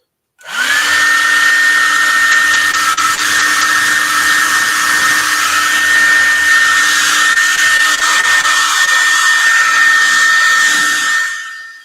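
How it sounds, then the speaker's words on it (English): A hair dryer roars steadily and loudly at close range, drying a balloon painting, with a constant high whine and airy rush held for the whole stretch before it switches off. "let's go ahead and dry this off back here, and we're going to keep it moving."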